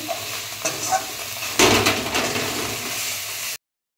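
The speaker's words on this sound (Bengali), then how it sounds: "দিয়ে এবার কষিয়ে নিচ্ছি।" Gandal leaf paste with ground cumin being sautéed in a pan, a few scraping stirs followed by a sudden burst of loud sizzling that settles into steady frying, close up, then cutting off.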